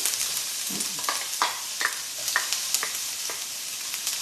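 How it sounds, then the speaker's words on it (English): Chopped onion sizzling in hot oil in a pan, a steady close frying hiss broken by soft clicks and scrapes of stirring, with no voices. "the second you put onions in the oil"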